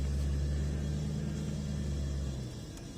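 A modified Volvo with a swapped LS V8 engine drives by with a deep, steady low rumble from close by, with no talk, easing off and quieting over the final half second.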